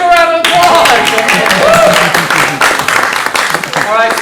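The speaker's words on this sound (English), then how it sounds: "Let's give a round of applause." Audience applause at a comedy showcase, loud dense clapping filling the whole stretch with a few voices and cheers rising through it near the start.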